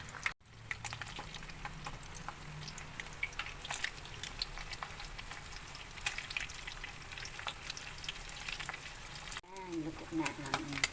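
Corned tuna with egg frying in a pan, giving a steady close crackling sizzle with scattered pops throughout, briefly broken by a person speaking near the end.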